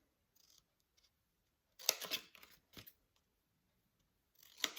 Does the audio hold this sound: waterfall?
no